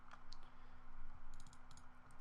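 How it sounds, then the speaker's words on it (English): A handful of light keyboard taps sound in two short bursts, close but faint over a steady electrical hum and a soft room drone. "create a follicle node just by hitting tab and typing in follicle"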